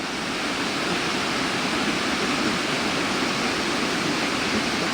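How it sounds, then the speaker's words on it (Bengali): Constant roaring rush of water gushing from a hillside into the Rangit River near Bijanbari, a dense unbroken wash of noise at steady, fairly loud level with no voices. "এত জোরে এত ফোর্সে পাহাড়ের ওপর থেকে জলটা বেরোচ্ছে আর চলে যাচ্ছে এই নদীতে"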